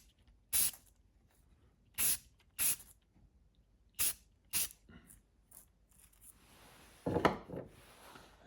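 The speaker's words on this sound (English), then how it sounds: "I just want to do a light spray of primer" Short hissing bursts of a primer spray can coat a carved wooden red-breasted merganser hen decoy, several separate puffs spaced about a second or two apart, close and fairly loud, followed by a faint rustle.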